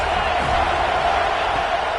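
A dense, steady roar from a football stadium crowd at a Stanford at Florida State game, loud and continuous through the whole stretch with no single voice standing out.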